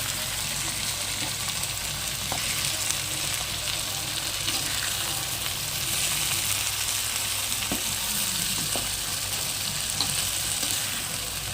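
Two tomatoes fry in a pan for a gravy curry, making a steady, moderate sizzle with a few light spatula taps and scrapes throughout.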